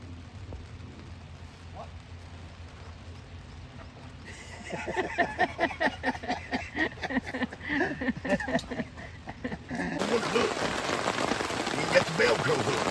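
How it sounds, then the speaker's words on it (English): Steady rain patters and drums on a taut tent surface nearby while camping, growing heavier partway through, with a voice speaking briefly under the downpour. "Here we are. It's raining."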